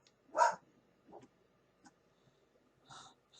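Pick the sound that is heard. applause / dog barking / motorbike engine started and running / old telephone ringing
dog barking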